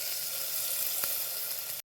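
Potato and onion sauté in a pan for masoor pulao, giving a steady, close, even sizzle with no voices, then cutting off abruptly near the end.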